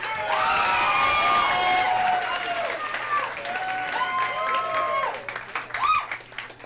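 A comedy club audience at a DePaul show applauds and cheers a comedian in a steady loud burst, with whoops and shouts ringing over the clapping before it tapers off near the end.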